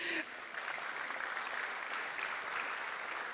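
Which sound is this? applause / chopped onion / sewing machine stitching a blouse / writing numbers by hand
applause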